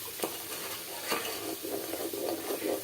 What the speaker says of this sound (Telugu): నాకు ఇలా కలపడం అంటే ఇష్టం, ఎవరికైనా ఇష్టం.